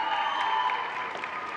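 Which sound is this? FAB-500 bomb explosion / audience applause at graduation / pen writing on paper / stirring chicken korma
audience applause at graduation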